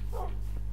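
A dog in the video game Minecraft lets out a single short bark over a steady low game hum, brief and fairly close.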